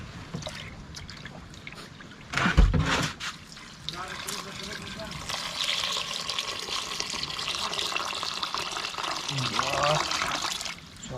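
Water is poured while sinigang is being cooked, a continuous splashing trickle that runs for several seconds after a brief louder splash, with a voice talking over it.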